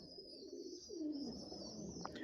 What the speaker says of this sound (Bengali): এ হচ্ছে কবুতরগুলা